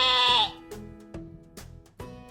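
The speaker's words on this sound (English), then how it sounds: "It is a sheep." A sheep bleats once, loud and wavering, then several softer clicks and knocks of farm ambience follow in a loose rhythm.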